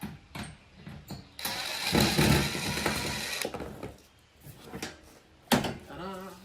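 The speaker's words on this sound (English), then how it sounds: "We'll get our hole drilled. You can see we have to drill our hole." A power drill whirs loudly for a couple of seconds, bracketed by clicks and handling noises, with a brief voice near the end.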